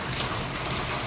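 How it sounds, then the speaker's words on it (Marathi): Rain falls outdoors at the start of a shower, a steady, even hiss of drops that fills the whole second without any breaks. "तर पावसाला इथे सुरुवात झाली."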